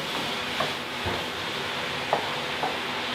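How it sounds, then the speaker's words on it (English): Steady sizzling from cauliflower rice frying in a pan, a continuous hiss with a few faint clicks and taps of a utensil. "You can still hear the sizzle."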